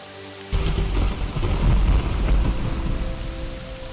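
Steady rain pours alongside a sudden loud thunderclap that rolls on for several seconds in the video game Morrowind, dense and close with no voices over it.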